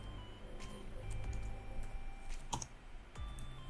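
Quiet, close computer keyboard typing arrives in uneven bursts of clicking keystrokes, with a few sharper single taps near the end while a command is entered.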